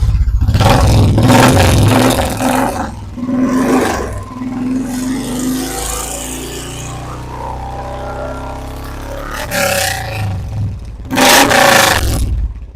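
Motorcycle engine running loud and close after a single kick start, its low exhaust rumble steady with a few sharp revs at the beginning and near the end, no talking over it.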